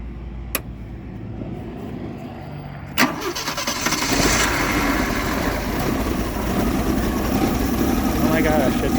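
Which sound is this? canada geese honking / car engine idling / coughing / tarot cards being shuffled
car engine idling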